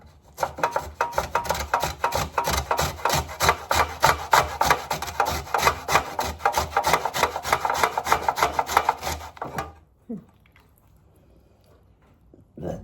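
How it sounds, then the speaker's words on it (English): Rapid rhythmic rasping of an ingredient being grated for lemon garlic butter mussels, steady and close for about nine seconds before stopping abruptly, leaving near silence. "And just grate that in as well."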